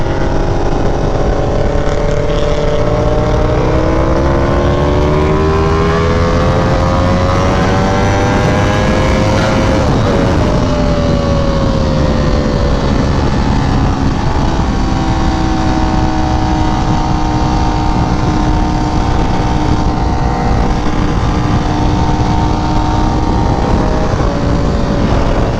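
Ducati Panigale V4R motorcycle engine while riding: a loud, sustained engine drone whose harmonics climb and dip with throttle changes, heavy wind rush over everything and no talking.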